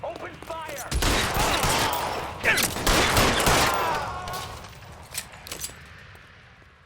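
Gunfire in an LA Noire shootout cracks out in dense bursts, with loud volleys of shots clustered over several seconds before thinning into scattered, fainter reports.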